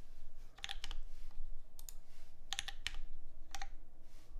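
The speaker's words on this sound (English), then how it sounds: "Spacebar is pretty nutty. Not too clacky." Keys clatter on a computer keyboard in a few quick sparse clusters, sharp close clicks over a low background hum.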